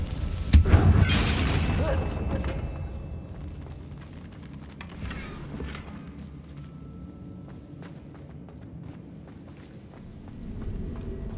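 A Confringo spell explosion in the video game Hogwarts Legacy: a loud, close blast near the start rolls off into a long rumbling decay, with scattered footstep-like thuds and light mechanical clatter after it.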